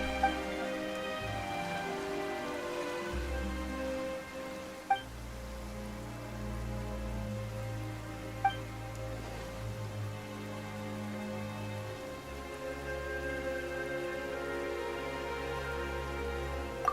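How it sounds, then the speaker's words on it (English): Rain falls suddenly in the Genshin Impact video game, a soft steady patter under music, with a couple of brief sharp clicks along the way. "Why is it raining all of a sudden?"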